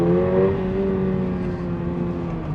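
Toyota GR86 with a 6-speed manual gearbox, its engine held at steady revs with a continuous, close, fairly loud drone that eases slightly over a few seconds, with no one speaking.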